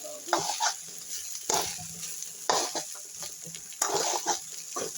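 Ingredients for chitranna frying in a pan, a close sizzle repeatedly swelled by about four sweeping stirring strokes with scraping between them.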